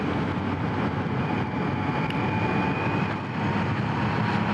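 A Kawasaki ZH2 motorcycle ridden over badly broken Oklahoma roads, with a steady low engine drone and heavy wind rush throughout and a faint whine above it.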